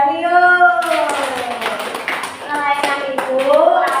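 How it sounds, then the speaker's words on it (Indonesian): A class claps for a classmate during a school lesson, a brief burst of hand clapping layered under children's voices and singing-like chatter throughout. "tepuk tangan buat Mas Jani yuk"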